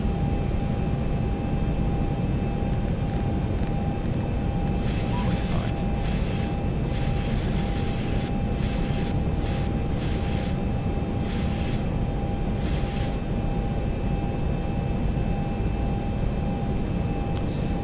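An airliner's engines drone steadily in the X-Plane 11 flight simulator, a constant loud roar with a faint tonal whine, while a person talks intermittently over it.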